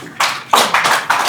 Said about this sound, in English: Please, let's give her a welcome applause.